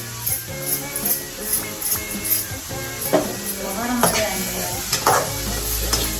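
Cashews frying in ghee for halwa, stirred in a pan: close, steady sizzling with repeated scraping and clinking of a spoon against the pan in an uneven rhythm.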